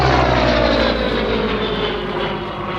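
Supermarine Spitfire Mk Vc at an airshow, its piston engine and propeller droning loudly and steadily overhead with a slowly falling pitch as it passes.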